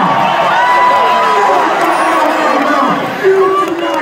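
A loud, dense crowd roars and chants together in a WWE live event arena, a continuous wall of many voices close around the listener, with shouts and children's voices mixed in.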